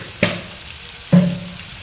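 A spatula or spoon gently stirs a pan of brinjal chorchori, a Bengali eggplant dish, just after a pinch of sugar is added, giving two short scraping, sizzling strokes about a second apart against a soft frying hiss.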